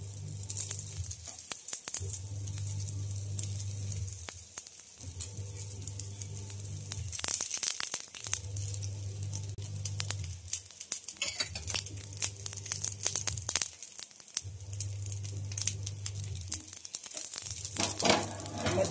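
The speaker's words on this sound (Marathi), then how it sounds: "आता यावर हे कटलेट ठेवून शालो फ्राय करून घ्यायचे." Masala oats cutlets shallow fry in oil on a griddle over medium heat, with soft crackling pops and sizzle under a low droning hum that cuts in and out at regular intervals.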